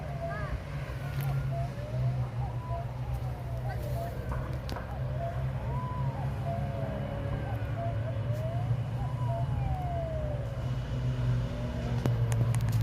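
A fire engine's wailing siren rises and falls repeatedly over a steady low engine rumble and background talk as it arrives at a fire close by.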